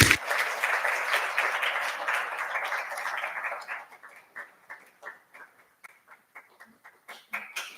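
People at a student government senate meeting clap loudly together as presenters walk up to a podium. The applause thins after a few seconds into scattered, isolated claps that continue sparsely to the end.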